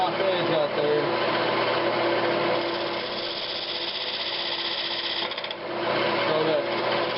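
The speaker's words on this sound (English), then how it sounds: "I'll just take my skew and I'll go ahead and I'll cut that top edge out there" A skew chisel cuts the top edge of a boiled walnut bowl spinning on a lathe, giving a steady scraping hiss over the lathe's hum, with a voice talking at times.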